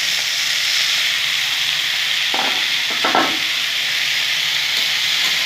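Pea greens go into eggplant frying in a pan, making a steady hiss of sizzling oil with a couple of brief louder crackles and stirring knocks partway through.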